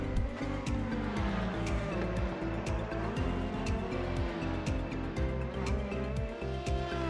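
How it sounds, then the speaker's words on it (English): LMP1 and LMP2 prototype race cars circulate in a 24 Hours of Le Mans racing video game, their engines droning and rising through repeated gear shifts, with occasional tire squeal over a constant, close motor roar. "Seeing the big boys going around, the LMP1s and the LMP2s"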